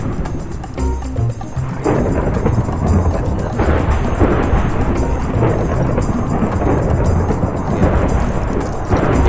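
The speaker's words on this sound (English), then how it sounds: "Thunder!" Thunder rumbling through a Minecraft storm, a steady loud roar with swelling rolls and hiss like rain throughout, no one speaking.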